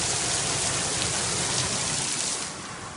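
Heavy rain pours in a dense, steady hiss, loud and close throughout, easing slightly near the end.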